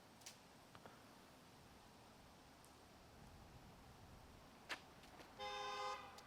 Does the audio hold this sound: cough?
no